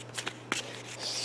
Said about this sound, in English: We're going to shuffle these up a bit and draw one for her.